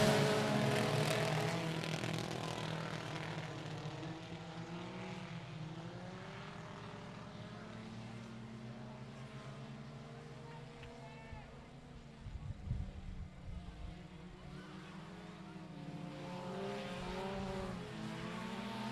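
Tuner-class race cars accelerating from the green flag in a heat race at I-37 Speedway, a steady engine roar with a brief louder burst midway, heard from a distance throughout.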